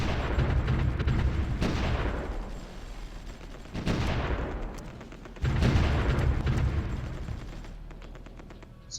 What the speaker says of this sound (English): I was wondering what that firing sound was. Oh, they moved the artillery in here.